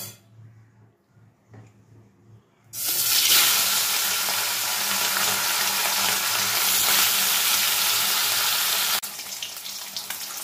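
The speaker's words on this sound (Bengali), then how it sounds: "এবার বাদবাকি মাছগুলো আমি এইভাবে ভেজে নেব।" Rohu fish pieces frying in hot mustard oil in a kadai: after a few quiet seconds of faint clatter, a loud dense sizzle bursts in and holds steady, easing slightly near the end.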